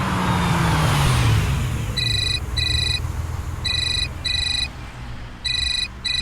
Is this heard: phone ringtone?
yes